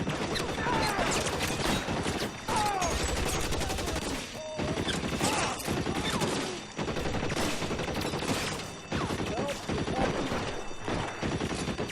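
Gunfire in the video game L.A. Noire, dense bursts of shots and rapid automatic fire that keep going nearly without a break, loud and close, with the odd faint voice underneath.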